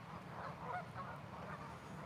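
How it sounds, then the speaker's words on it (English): Geese honk faintly at a distance by a noisy river, a few soft calls over a steady rushing background. "I've got noisy geese and that stuff too"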